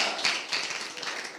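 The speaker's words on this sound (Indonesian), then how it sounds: "Ayo tepuk tangan yang meriah buat Tuhan kita" Church congregation clapping together during a worship service, a dense, continuous spread of hand claps with a couple of louder swells, fairly close and steady throughout, no voices on top.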